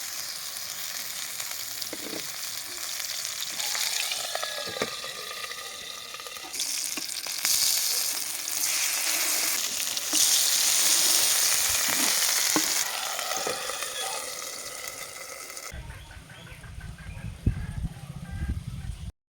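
Fish and eggplant pie filling fries in a covered pan with a little oil added at the side, giving a steady, close, hissing sizzle that shifts in tone near the end.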